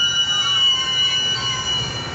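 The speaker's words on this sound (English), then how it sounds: "This is the Woodstock Metra train." A Woodstock Metra commuter train passes close by with a steady rumble and high metallic wheel squeal, loud and continuous for the whole short stretch.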